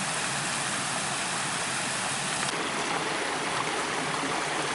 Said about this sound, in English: It's just neat the way the water is cascading over that rock.